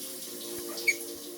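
Water runs steadily from a faucet in a story video game, a soft continuous hiss with a faint clink partway through and no voices.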